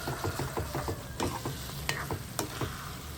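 Mango chutney sizzles in a pan while a spoon stirs and scrapes it with repeated rhythmic clatters, close and fairly quiet.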